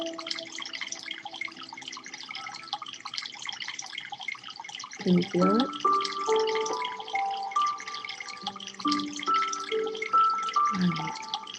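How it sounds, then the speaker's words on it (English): Soft running water, like a trickling faucet or drip, flows steadily in the background under gentle music tones during a calm breathing lesson, with a brief spoken question. "I hope you can hear the sound of the water in the background."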